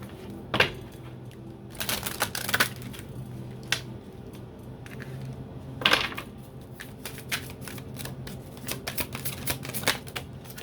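Tarot cards shuffled by hand, crisp riffling bursts and soft slaps in irregular clusters, close and fairly loud with quiet gaps between.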